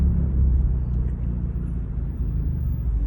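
A Hyundai Sonata with its muffler and resonator deleted idles and revs in a continuous loud, deep exhaust rumble, close up and steady across the whole short stretch, with no voices.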